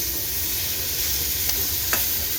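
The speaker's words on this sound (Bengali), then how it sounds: "5 পিস ভাজছি।" Giant freshwater prawns fry in a pan with a steady, close sizzle and hiss, broken by a couple of brief stirring clicks, with no talking.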